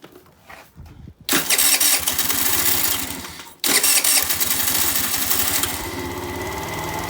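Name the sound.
50cc scooter engine running after carburetor cleaning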